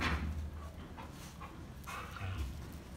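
A young puppy vocalizing with soft yips, whimpers and panting, close and quiet, with no talking.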